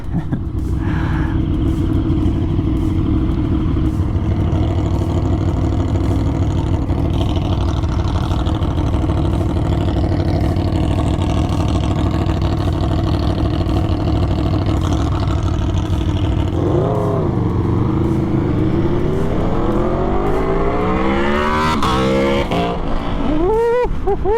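A KTM Super Duke R and an Aprilia motorcycle idle with a deep, loud, close engine rumble, then rev hard with rising pitch through the last several seconds; no talking.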